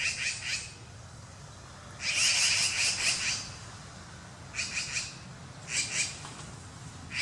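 Magpies give harsh, raspy squawking bursts, four distinct calls of about a second each separated by pauses, moderately close over a low background rumble.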